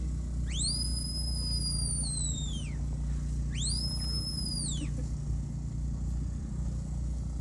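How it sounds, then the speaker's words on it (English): A shepherd's two long, high lie-down whistles to a herding dog sound in turn, each rising sharply, holding, then sliding down, over a steady low rumble of background noise. "So that long lie down whistle."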